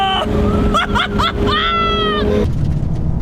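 BMW M2 Competition engine revving hard on a fast road, loud close cabin sound with rising revs and abrupt aggressive gear changes cutting the pitch, followed by a sudden drop in engine note.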